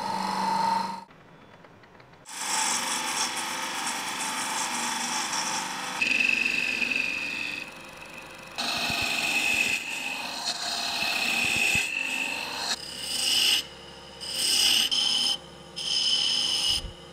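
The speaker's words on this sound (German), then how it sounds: "Wenn er trocken ist, dann schleife ich ihn nochmal zwischen" Steady, rough rubbing of sanding a dried shellac finish on a wood-turned box, continuing in long strokes with a few brief pauses, close and fairly loud, no voices.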